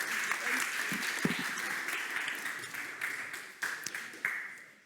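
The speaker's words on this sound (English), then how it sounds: "And a big applause for her." An audience applauds a pitch competition winner at a startup finals event, continuous clapping that thins toward the end, with voices talking over it.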